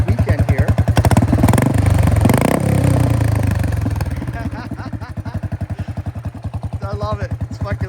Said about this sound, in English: I gotta have a loud bike.